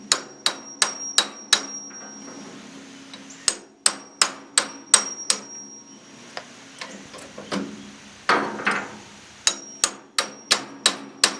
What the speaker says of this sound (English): get a punch here and a hammer and hit that. It'll push the center out of it like that